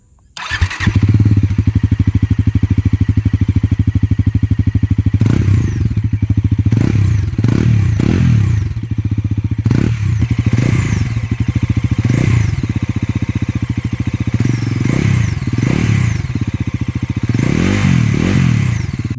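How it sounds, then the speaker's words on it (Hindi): A Bajaj NS 400Z motorcycle engine revs repeatedly, its bassy exhaust note swelling and falling with each throttle twist over a steady idle, loud and close, with a faint whistling tone in the mix. "एक बेसी एग्जॉस्ट नोट और स्मूथ इंजन टोन के साथ एक सॉफ्ट विस्लिंग जैसा भी साउंड आ रहा है"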